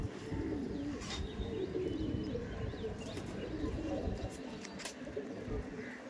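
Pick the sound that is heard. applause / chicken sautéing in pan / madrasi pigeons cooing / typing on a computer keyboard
madrasi pigeons cooing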